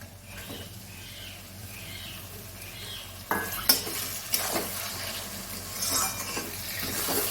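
Bombil fish dropped into a pan of cooked onion, chili and turmeric masala, which breaks into a louder sizzle with clattering stirs and knocks of a utensil against the pan.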